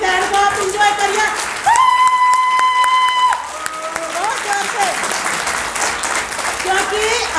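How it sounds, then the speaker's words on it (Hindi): An audience applauds at a national convention in India, welcoming Baba Saheb during a Manusmriti-burning event; steady clapping mixes with voices and tonal sounds from the hall. "जोरदार तालियों से हमारे बाबा साहब के लिए बहुत ज़्यादा तालियों से स्वागत कीजिए"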